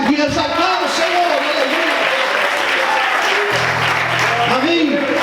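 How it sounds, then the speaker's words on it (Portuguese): A church congregation claps together in a steady, dense wash of applause, with voices calling out over it and a low sustained tone entering partway through. "Quantos podem aplaudir e exaltar o Senhor?"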